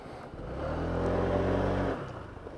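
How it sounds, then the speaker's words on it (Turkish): A Honda PCX scooter with HSTC traction control switched off revs up to a steady, loud engine drone that holds for about a second and then drops back to idle, close by. "Gaz bırakmadığınız sürece kesinlikle patinaj çekiyor ve hiç durmuyor."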